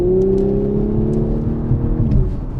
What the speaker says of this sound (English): That engine noise, Yikes. transmission whine, and the exhaust, everything together is just chef's kiss.